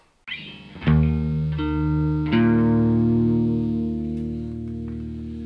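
Electric guitar played through a Monoprice 611600 distortion mini pedal in crunch mode, a few sustained chords struck and left to ring out with gritty distortion, close and loud with no talking.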